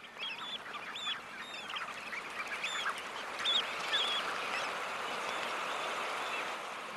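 Large flocks of coastal waders and waterfowl pushed off the shore by a rising tide, a dense wash of many distant calls and honks swelling steadily without pause.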